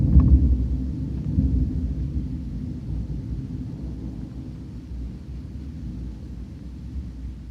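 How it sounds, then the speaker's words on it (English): Deep thunder rolls through the narrow alleys of Venice during a night storm, a low continuous rumble that starts loudest and slowly fades, with no voices. "The rumbles of thunder echoed through the narrow alleys"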